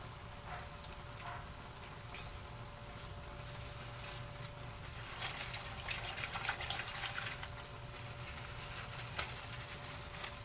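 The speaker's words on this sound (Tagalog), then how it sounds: "Pwede na po natin ilagay yung gata ito." Coconut milk poured into a hot pan after the contents have cooked dry, a soft continuous liquid gush and trickle that builds slightly midway, faint and fairly close with no talking.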